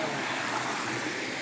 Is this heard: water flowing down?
yes